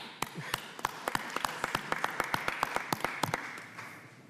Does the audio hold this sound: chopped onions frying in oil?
no